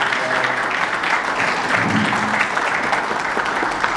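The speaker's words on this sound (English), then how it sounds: "Give yourself a round of applause." Audience applause at a community reentry summit, steady dense clapping from a sizeable crowd filling the whole stretch without a break.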